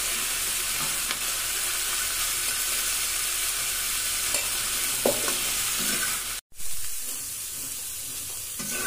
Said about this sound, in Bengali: ফুলকপিগুলো লাল করে ভেজে নেব